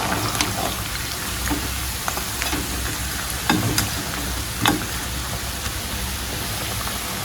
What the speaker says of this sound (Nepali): चट्टसँगले फ्राई हुँदैछ।